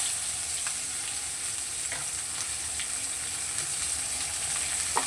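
Chopped onion and garlic frying in hot oil in a pan, a steady close sizzle with faint crackles and stirring, continuous with no voices.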